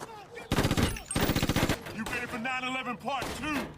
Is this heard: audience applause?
no